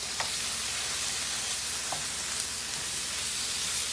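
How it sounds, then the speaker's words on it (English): Ground beef browns in a hot pan for a homemade lasagna, giving a steady close sizzle and hiss with a few faint clicks of stirring and no talk. "I'm gonna start browning the hamburger"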